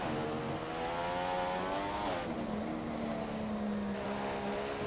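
Race car engine from the F1 2015 video game at the Mexico Grand Prix, droning steadily with rising pitch through the gears, then dropping on a shift and holding a sustained high whine, close and continuous.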